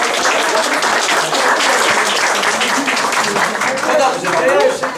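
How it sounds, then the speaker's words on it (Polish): Audience applause at an art exhibition opening for a drawing show, steady dense clapping filling the room for several seconds, close and loud, with a few voices and cheers mixed in. "To brawo dla niego. Brawo!"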